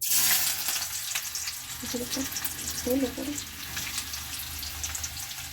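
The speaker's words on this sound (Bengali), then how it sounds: "এই যে আদা রসুনটা তেলে দিয়ে দিচ্ছি" Ginger and garlic frying in oil for a restaurant-style chicken Manchurian, a soft continuous sizzle with faint stirring, close but quiet, under brief bits of talking.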